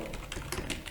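Rapid keystrokes on a computer keyboard while entering a MySQL ALTER TABLE query, a quick uneven run of close, moderately loud clicks filling the moment with no voice.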